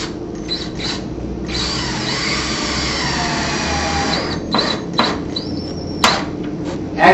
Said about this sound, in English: place our trim head screw into the pre-drilled hole